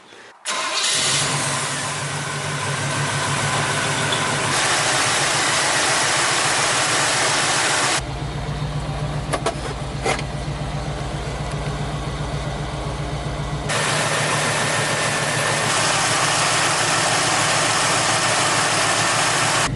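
A Chevy 350 V8 truck engine with an overheating problem idles steadily and loudly close by, its low rumble shifting in tone partway through before settling back into an even idle, with no talk.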